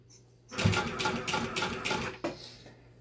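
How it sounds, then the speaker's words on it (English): A Bridgesew 0303D walking foot industrial sewing machine stitching on pedal control, a steady mechanical run of about two seconds starting abruptly, then a brief second burst before stopping. "You step down on the pedal and start sewing"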